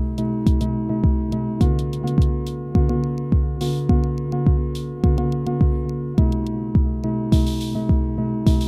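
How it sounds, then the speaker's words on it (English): An Elektron Model:Cycles FM groovebox plays a clean, steady pattern of punchy kick-like hits and tonal plucks, with bursts of bright hi-hat noise recurring in a looping rhythm. "Today I've got it paired up with the Elektron Model Cycles, a really cool FM groove box"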